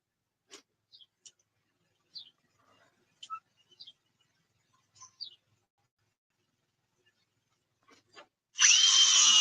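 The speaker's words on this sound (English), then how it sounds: "This motherfucker broke out a power tool." A power tool used outdoors on an expensive electric bike left outside in the Bronx bursts on loud and close near the end, a sustained high whine after long quiet broken by scattered bird chirps.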